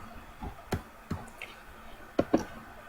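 A computer mouse clicks a few times while editing in Photoshop CS6, sharp isolated ticks spaced irregularly, with a quick double click near the end, close and quiet in a still room.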